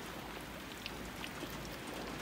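Light rain falls outdoors as a faint, even hiss, with occasional individual drops ticking close by and no voices.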